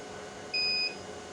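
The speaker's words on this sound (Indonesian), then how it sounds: "Pertama-tama di sini saya akan menyalakan untuk MPPT-nya terlebih dahulu ya." A locally assembled 100A rackmount MPPT solar charge controller gives a single steady electronic beep of about a third of a second as it powers on, clear over a quiet room hum.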